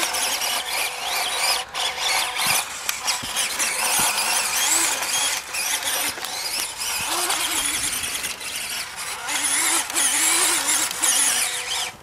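A WL Toys 12428 RC car driven at full throttle, its electric motor whining loudly and continuously with a shifting pitch, close by, with rattles and bumps from the terrain.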